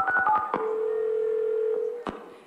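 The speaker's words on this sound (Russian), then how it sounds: "Надо сначала моей маме позвонить." A quick series of telephone keypad dialing tones, several short beeps in a fast rhythm, followed by a long steady ringback tone, close and clear with no talking.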